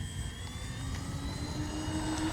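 A radio-controlled scale model B-25J Mitchell bomber takes off, its engines giving a steady, loud drone with a rising whine as it accelerates down the runway and lifts off. No one talks.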